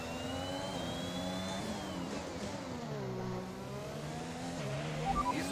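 Race cars in the F1 2021 video game scream through an overtake on the Baku street circuit, with several engine notes rising and falling in pitch as the cars pass close together, loud and continuous.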